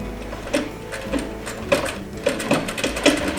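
A sewing machine stitches a slipcover seam joining a covered welt, going slowly around a corner in short, separate stitch clacks at an uneven, halting rhythm.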